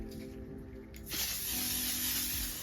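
L'Oreal Infallible finishing spray hisses from a pump bottle onto a face, one bright, airy burst that starts about a second in and lasts to the end, close and clear over a quiet room.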